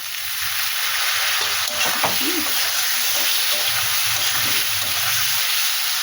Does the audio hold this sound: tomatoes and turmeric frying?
yes